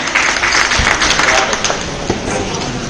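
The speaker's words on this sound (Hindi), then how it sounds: "सभी सम्मान होने वालों का ताली बजाकर सभी का सम्मान करें, स्वागत करें" An audience at a ceremony for doctors, nurses and sanitation workers applauds the honourees with steady, dense clapping that fills the hall, a voice faintly mixed in beneath it.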